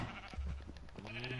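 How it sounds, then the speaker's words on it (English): Sheep bleating on a video-game farm, a short wavering call heard close against a steady background hum. "This is our sheep farm."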